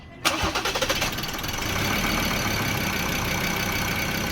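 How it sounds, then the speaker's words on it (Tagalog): A Mazda BT50 3.2 diesel pickup engine, fitted with a new cylinder head and injectors, cranks with a rapid series of knocks, then catches and settles into a steady, rumbling idle nearby. "Paandarin natin ang makina"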